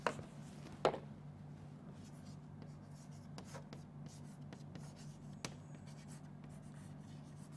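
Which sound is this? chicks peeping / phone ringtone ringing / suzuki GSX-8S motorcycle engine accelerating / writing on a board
writing on a board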